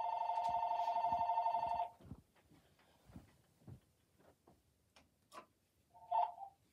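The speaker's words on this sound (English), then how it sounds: "this is unusual for the phone to ring" A landline telephone rings indoors with a bright electronic trill that sounds steadily for about two seconds, then gives one more brief burst near the end, with small knocks and handling noises in between.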